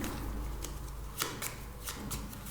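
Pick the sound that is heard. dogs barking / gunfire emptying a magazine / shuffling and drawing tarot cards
shuffling and drawing tarot cards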